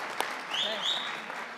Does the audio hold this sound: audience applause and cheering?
yes